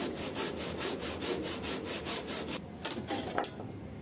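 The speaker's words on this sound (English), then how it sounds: "I end up cutting the rest of the timber on my balcony." A hand saw cuts through timber on a balcony with steady, rhythmic back-and-forth strokes, loud and close, before the stroking slows and turns rougher near the end.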